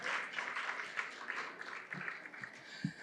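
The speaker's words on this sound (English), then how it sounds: "Another round of applause, ladies and gentlemen, for Justice Zukisa Chikwi" Brief audience applause at a journalism awards ceremony, a moderate patter of clapping that tapers off over a few seconds.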